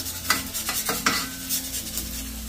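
Smashburgers sizzle loudly in a seasoned cast iron pan, with a few sharp scraping clatters of a spatula as the patties are flipped, all close and continuous.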